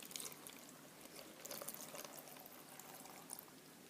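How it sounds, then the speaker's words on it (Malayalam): Water being poured into salted mango pickle, Kerala style: a faint, steady liquid pour and trickle lasting a few seconds, with no voices. "1 കപ്പ് വെള്ളം ഒഴിക്കാവുന്നതാണ്."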